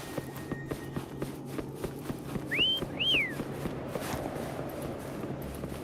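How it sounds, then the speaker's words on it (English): Two rising-falling whistle notes call a mount named Foam in the video game Wuthering Waves, clear and close over a steady patter of running footsteps. "Try whistling."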